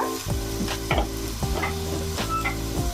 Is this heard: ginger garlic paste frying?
yes